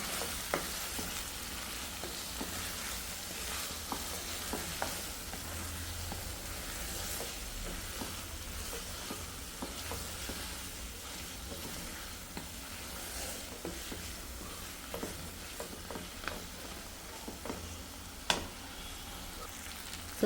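Chicken pieces coated in ginger garlic paste fry in a pan for a chicken curry, a steady close sizzle with occasional stirring scrapes and clicks, no talking.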